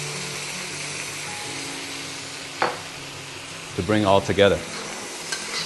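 Bitter melon and beef stir-frying in a wok as soy sauce and rice wine are added: a continuous sizzle, one sharp louder burst partway through, and a voice speaking briefly over the cooking.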